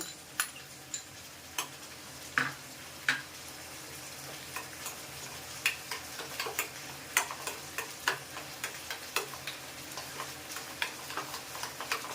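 Chicken for Peshawari chicken sautés in a pan over a steady sizzle, punctuated by regular sharp clicks of a spoon against the pan that grow more frequent over twelve seconds, with no speech.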